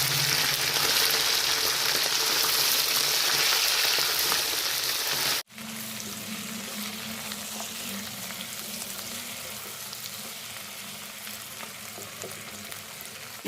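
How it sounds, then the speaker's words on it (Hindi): Chicken sizzling in hot oil in a pan for white karahi while a spoon stirs through it, a continuous loud frying hiss that briefly cuts out, then resumes with a lower, steady crackle and scraping of the spoon. "अब हम इसके अंदर चम्मच हिलाते जाएंगे और इसको अच्छे से इसकी भुनाई कर लेंगे"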